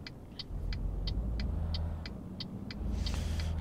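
Truck driving in Euro Truck Simulator 2, a steady low engine rumble with faint road noise, plus a run of evenly spaced high clicks like a turn indicator ticking, and no talk.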